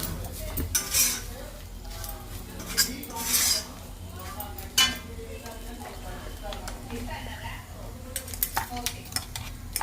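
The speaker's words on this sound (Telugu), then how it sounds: "వేసుకొని కొద్దిసేపు కలుపుకోవాలి బాగా" A spoon scraping and clinking against a pan while spice powder is stirred into fried bitter gourd, with soft sizzling underneath and irregular metallic knocks throughout.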